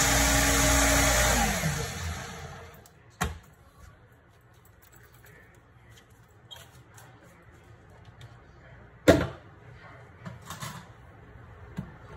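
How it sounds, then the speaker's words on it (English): A countertop blender whirs loudly while blending a drink of mix and water, the motor running for about two seconds before cutting off, followed by a quiet room with a couple of sharp knocks. "I'm gonna put it in my blender."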